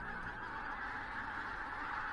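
Geese honking steadily near a Scottish loch in autumn, a dense continuous chorus of calls from a flock, fairly loud with no speech over it.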